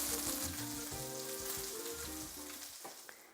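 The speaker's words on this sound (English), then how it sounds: "These are very finely chopped salmon bits, so it doesn't take long to cook." Finely chopped salmon bits fry in a hot pan with a loud, crackling sizzle that slowly fades toward the end.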